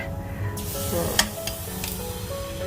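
Pancake batter sizzles steadily in two hot frying pans up close, with a few sharp clinks and scrapes of a utensil.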